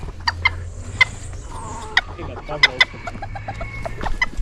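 Chickens cluck in short, sharp bursts at an exotic bird park in Puyo, Ecuador, close by, over a steady low background hum.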